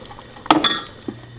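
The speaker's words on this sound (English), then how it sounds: "I'm going to add in about a cup of water" Water is poured into a pot of black silkie chicken porridge made with glutinous rice, giving a brief splash and a glassy clink followed by a short liquid trickle, close and clear.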